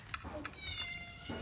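A household cat meows several times, close and fairly faint, in a Kerala home kitchen after it carried off a fish, with people talking around it.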